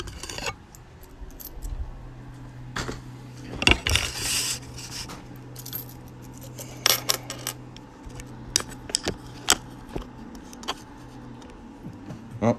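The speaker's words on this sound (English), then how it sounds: "Got some freshly annealed pennies, and we can take them over here and start folding them." Freshly annealed copper pennies handled and folded by hand, with scattered metallic clinks and clatters of varying loudness, some sharp and close, over a low steady hum.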